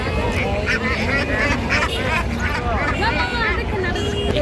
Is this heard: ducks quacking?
yes